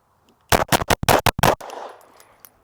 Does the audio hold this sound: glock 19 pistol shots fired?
yes